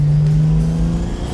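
A BMW Z3 M Coupe with a swapped turbocharged 2JZ engine pulls hard in second gear, a loud, close, steady engine drone with a strong low tone and no talking.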